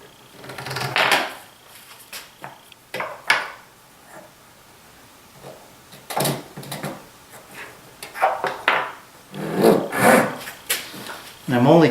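Hand cutting into a wooden dresser part held in a Jorgensen clamp, irregular close rasping saw strokes in short bursts, with pauses and handling noises between them.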